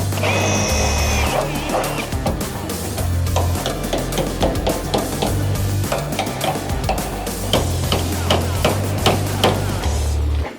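Repeated metallic hammer blows beating a car body panel during a VK restoration, steady loud strikes in an irregular rhythm over a low continuous workshop hum, sounding close and alone without talk.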